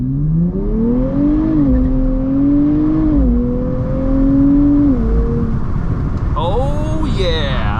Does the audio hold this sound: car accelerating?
yes